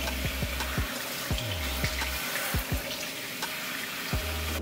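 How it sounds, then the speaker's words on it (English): Running water from a tap wets a teen's 4C hair, a steady close splashing stream with faint low thumps and no talk. "I'm going to start by wetting his hair"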